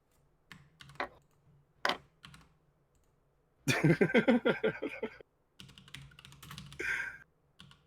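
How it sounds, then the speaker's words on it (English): Fast, furious typing on a computer keyboard comes in bursts, a few isolated clicks, then a dense rattling run of keystrokes, a pause and another flurry, fairly close with quiet gaps between. "whenever you hear Micro furiously typing in the background"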